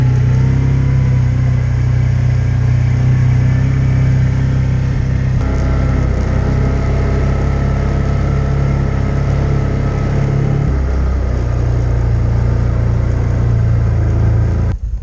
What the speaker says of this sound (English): We're ready to pull out the snowmobile.